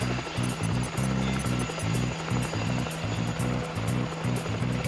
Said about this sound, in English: Garrison orders the launch of another Black Hawk helicopter.